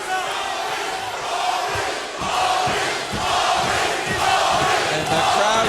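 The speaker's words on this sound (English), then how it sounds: "And the crowd getting behind Smith right now. And they're chanting Maurice." Arena crowd at a 1997 MMA fight between Mark Coleman and Maurice Smith, a dense loud roar of many voices chanting steadily, swelling in rhythmic surges throughout.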